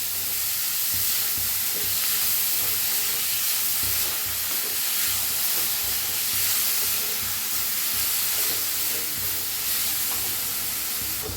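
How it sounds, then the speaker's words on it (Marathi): Grated radish roasting in a pan, a dense, loud, continuous sizzle and hiss with faint scraping stirs underneath, close up and steady throughout, no voices. "आता ह्याच्यातच टाकूया मुळा किसलेला. चांगलं पहिलं भाजून घेऊया."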